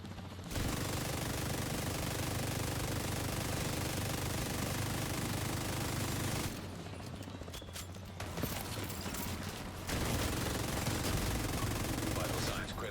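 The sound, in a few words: LMG machine gun firing in The Division 2 video game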